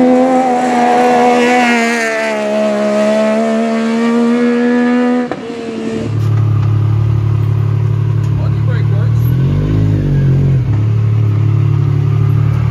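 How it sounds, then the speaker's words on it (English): A sprint car at Goods Raceway revs and accelerates with rising engine tones, then the roar drops and settles into a steady loud drone with tire squeal and wavering pitch, under occasional voices. "Here we go, round two, Goods Raceway with the sprint car"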